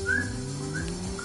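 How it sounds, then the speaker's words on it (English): A person whistles, two or three short rising notes from a distance above a steady low engine-like hum, with no talking. "Who's whistling?"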